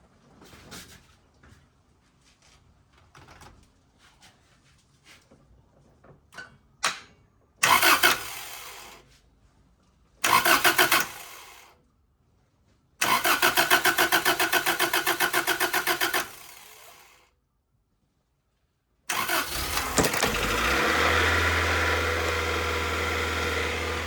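A restored Honda CRX engine cranks in several bursts, stopping and retrying, after clicks and rattles, then catches and settles into a steady, loud idle. No one talks.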